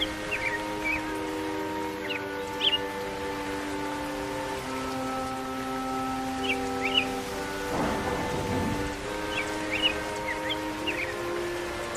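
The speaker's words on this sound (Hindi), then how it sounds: "अरे देखो, ये घनी बारिश शुरू हो गई।" Heavy rain in a cartoon pours steadily with a brief thunder rumble near the middle, while sustained music tones and light chirps play over the downpour, no talk.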